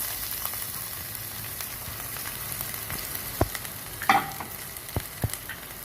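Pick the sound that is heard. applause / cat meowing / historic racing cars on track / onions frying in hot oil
onions frying in hot oil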